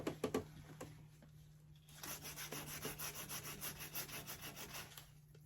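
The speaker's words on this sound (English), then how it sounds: "I want to get that smoothed out with sandpaper, the 220 here." 220-grit sandpaper rubbed over a small chip in a wooden end table, a few quick scratchy strokes, then a steady run of close, rhythmic back-and-forth sanding strokes, quiet and alone.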